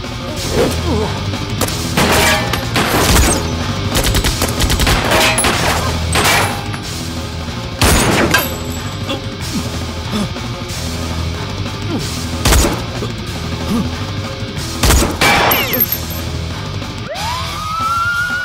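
Gunfire in an action film scene: repeated loud cracks and bursts of shots at irregular intervals, some sharp single blasts and some rapid volleys, with clattering impacts between them and no clear talk.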